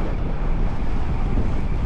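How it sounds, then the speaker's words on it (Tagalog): Strong wind roars against the microphone during a long windy bike ride, a loud, steady low rumble filling the whole moment with no voices. "Kasi delikado nga dahil sobrang lakas ng hangin."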